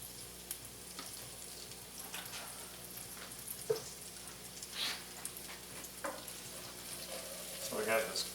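Tomatoes and garlic frying in olive oil in a pan, a steady low sizzle with scattered louder crackles and pops and occasional stirring clinks, fairly quiet throughout.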